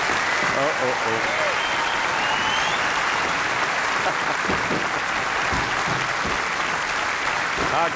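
Steady, loud clapping fills the hall at a concert, a thick wall of applause from the audience with brief voices and shouts buried in it.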